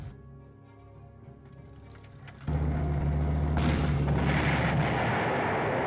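In Panzer Corps, a quiet tonal game backdrop gives way to a loud, sustained rumbling roar of artillery fire that keeps booming heavily to the end.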